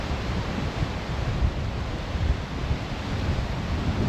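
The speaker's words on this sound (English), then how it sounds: "Just a bit windy today, gale force" Strong, steady gale-force wind roars across the microphone at Port Douglas Beach, Australia, with a dense rushing hiss and low buffeting, surf faintly mixed in, no voices.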